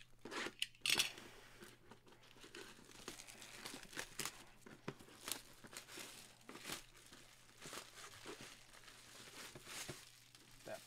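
Plastic wrapping is crinkled and torn off a Series 6 baseball mini helmet during a live group card break, giving a steady run of close crackling and tearing bursts with a few sharper rips, no talking.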